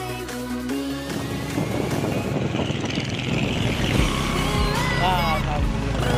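Motorcycle ride of about an hour toward the Linggasana base camp on Mount Ciremai, over roads left slippery by overnight rain; a steady engine drone with shifting pitch runs throughout, close and fairly loud, with other vehicle sounds mixed in.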